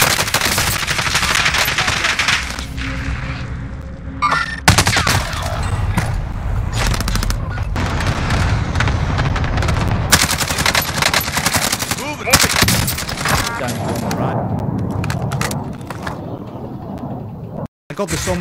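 Video game gunfire in a battle, with rapid machine gun bursts, single shots and booms repeating loudly throughout, mixed with game sounds and someone talking over the action.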